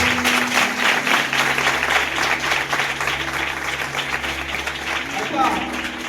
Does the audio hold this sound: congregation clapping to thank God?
yes